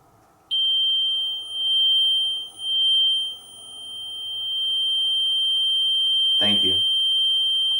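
A paranormal detection device in a reportedly haunted house in Virginia Beach emits a steady high-pitched alarm tone that sounds continuously, with a brief voice breaking in near the end.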